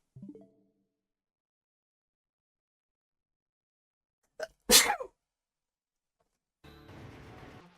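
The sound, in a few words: high-pitched sneeze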